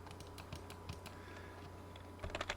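Keys tapped on a computer keyboard to enter an AutoCAD command: quiet scattered keystrokes, ending in a quick cluster of a few clicks over a faint electrical hum.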